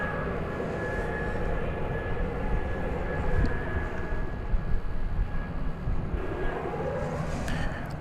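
United Airlines Airbus A319 arriving from Houston at Dallas/Fort Worth airport at night, a steady broad jet roar with a thin whine, holding loud and close for the full eight seconds with no voices.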